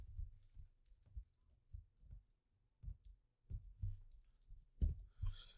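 Keystrokes on a computer keyboard while entering a short command in statistics software: a sparse, uneven run of soft, dull taps, close to the microphone and quiet, with no voice over them.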